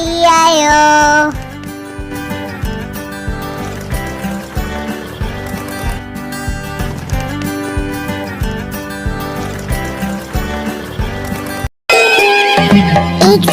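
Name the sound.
horse neighing and hooves clip-clopping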